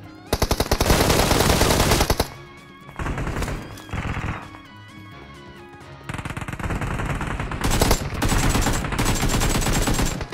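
Rapid automatic gunfire from the mobile battle-royale game Peace Elite, loud, dense bursts firing in long runs, broken by short pauses and followed by more sustained volleys, with no talking.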